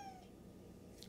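A person imitating a cat's meow, producing one short, quiet, thin mewing call near the start over a steady low background hum.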